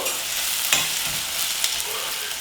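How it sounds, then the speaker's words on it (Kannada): Chopped onions and green chillies frying in hot oil, a continuous bright sizzle with a couple of soft clicks from a stirring utensil, no talking. "ಎಣ್ಣೆ ಕಾದ್ಮೇಲೆ ಕಟ್ ಮಾಡಿರೋ ಈರುಳ್ಳಿ ಮತ್ತು ಹಸಿಮೆಣಸಿನ್ಕಾಯಿನ ಹಾಕ್ಕೋಬೇಕು ಈರುಳ್ಳಿ ಸ್ವಲ್ಪ ಕೆಂಪುಗಾಗೋವರೆಗೂ ಹುರ್ಕೋಬೇಕು"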